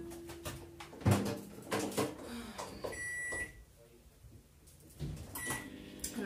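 A running microwave oven hums steadily in a home kitchen, with a few short tonal beeps and light clunks, while someone talks over it.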